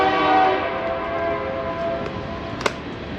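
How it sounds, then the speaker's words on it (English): A train rumbles past nearby with a steady drone and sustained horn tones, then a brief sharp clank near the end, with no talking. "God damn, another train?"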